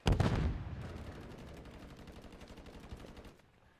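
Gunfire in a video game shooting through a wall: a loud opening blast, then a long, rapid, evenly spaced automatic burst that keeps up for several seconds before cutting off.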